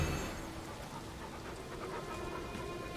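Dogs panting in the video game Elden Ring, a soft continuous breathy pant at low level under a faint background hum, ending with a brief bump.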